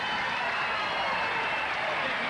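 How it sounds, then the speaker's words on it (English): Studio audience at a 1981 television talk show, a broad steady wash of crowd noise and cheering that holds at an even level throughout, with no single voice standing out. "They sound like a crowd."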